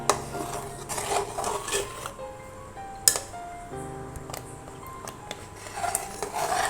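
Thick mango candy mixture being stirred in a pot, with soft scraping and clinks of a spoon against metal and a few sharp knocks, while quiet background tones carry through and nobody speaks.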